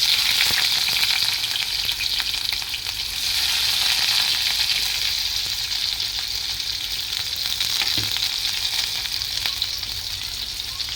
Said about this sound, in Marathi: तेल तापलं त्यात आपण टाकूया कांदा